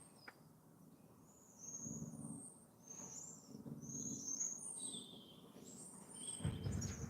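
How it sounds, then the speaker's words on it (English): A European robin sings in a series of high, thin warbling phrases, fairly faint and distant over a soft outdoor background hum. "That robin is so loud."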